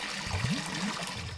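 A bucket filling with water in Dead Synchronicity, a steady rushing pour with gurgling rises, moderately faint and brief.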